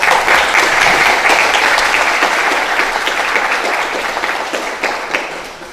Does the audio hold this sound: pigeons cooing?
no